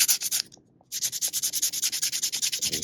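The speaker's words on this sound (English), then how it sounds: "But this filler sands beautifully." Rhythmic back-and-forth sanding of body filler on a 1955 Ford truck with 100-grit paper, loud and close, a brief pause then steady fast strokes with no talking.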